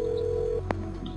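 Telephone tones from the Phantasmagoria 2 video game: a steady dial-type tone that cuts off, then a short sharp beep, played alone and fairly loud.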